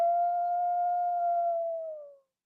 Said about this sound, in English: Let's live and let howl.